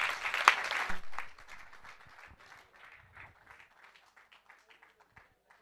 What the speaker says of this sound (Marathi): साहेबांसाठी जोरदार टाळ्या झाल्या पाहिजे